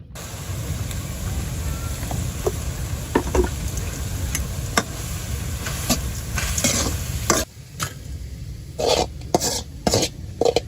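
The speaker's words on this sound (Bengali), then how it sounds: "ইসা মাছগুলো সতালে নিছি।" Small isha shrimp sautéing in a pan with salt and turmeric, a dense close sizzle with scattered clicks and scrapes of stirring, dropping briefly quieter partway through before resuming with louder stirring knocks.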